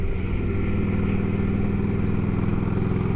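Yamaha V-Star 1100 shaft-drive motorcycle cruising on a ride, a loud steady engine rumble with a throbbing low pulse and wind noise throughout, no talking.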